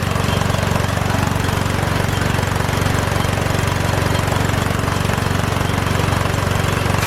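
A Craftsman 16882 air impact wrench works on the front brakes of a 2010 Dodge Ram 1500 pickup, giving a loud, steady, rapid hammering rattle with a low throbbing drone that runs unbroken throughout.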